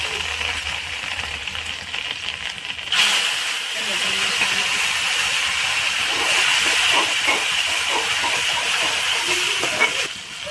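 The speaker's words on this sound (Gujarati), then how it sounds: "હવે આપણે રાઈ નાખીશું, થોડી ઘી નાખીશું, થોડા મીઠા પાન નાખીશું, થોડા મરચાં નાખી દઈશું" Mustard seeds, curry leaves and chillies sizzle in hot ghee and oil for sabudana khichdi, a sharp steady hiss that jumps up suddenly after a quieter start and keeps crackling close up, with faint talk beneath.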